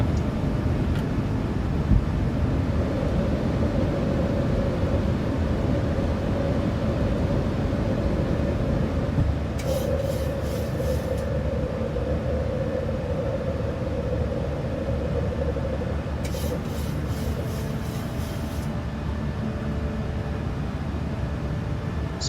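A Norwegian Boeing 737 takes off in Microsoft Flight Simulator 2020, a steady loud engine roar and runway rumble that continues unbroken, with brief chiming cockpit tones twice during the climb.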